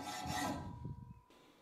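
A blunt hacksaw blade rasping against the plastic sprues of a figure, a short close scraping burst that fades out, with no one talking.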